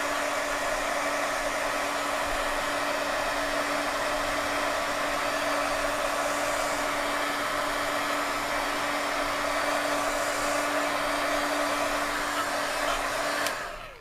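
A heating tool blows steadily to dry a faux rust paint layer, a constant close whirring hum with a steady tone that runs unbroken for about fourteen seconds before cutting off abruptly at the end, with no talking.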